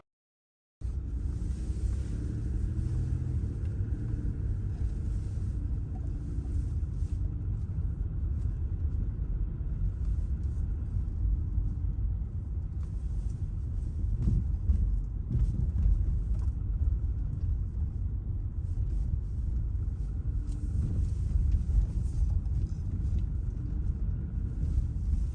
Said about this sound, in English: Let's drive up there.